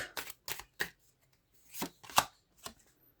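A new deck of playing cards being shuffled, heard as several crisp riffling bursts with short pauses between them, close and fairly quiet with no talking.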